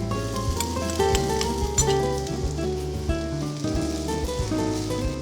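Mixed masala sizzles as it hits a hot pan for Kerala-style fish head curry, a loud, continuous crackling fry heard close up with no talking.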